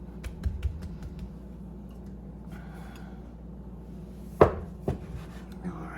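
A knife cuts through cheese and chive scone dough on a board, leaving a few soft ticks and then two sharp thuds as the blade meets the surface, with a low background hum.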